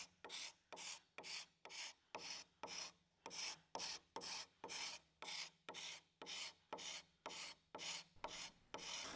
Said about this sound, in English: I can also use the card scraper to scrape the finish off of this edge profile